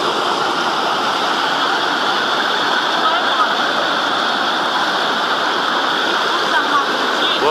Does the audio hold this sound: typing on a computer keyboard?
no